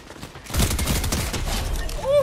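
Rapid bursts of gunfire from a gun in a video game, a loud close fusillade of repeated shots running almost the whole time, with a brief electronic chirp near the end.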